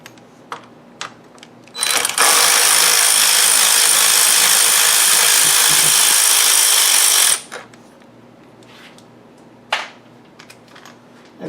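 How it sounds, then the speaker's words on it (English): A power tool buzzes in one loud, steady burst of about five seconds while removing a bolt on a Ford Mustang during a radiator fan install, close up, with quieter clicks and handling noises before and after. "we're going to go ahead and remove this bolt here on this side."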